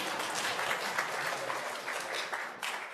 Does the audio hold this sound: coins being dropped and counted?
no